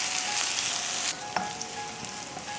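Potatoes frying in hot oil in a pan: continuous loud bright sizzle that drops slightly in level partway, with a faint clink and a few small pops, no talking.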